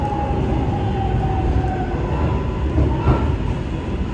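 Steady rumble of a subway train in motion, broad and continuous with a faint squealing tone riding on top and a brief louder jolt near the end, no voices.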